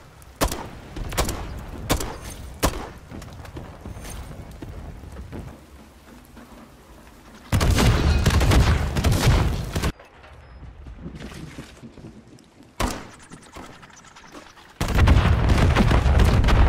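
Gunfire in Modern Warfare III: a series of sharp, sporadic shots early on, then two long, loud sustained bursts of automatic fire, with quieter game ambience between them and no speech.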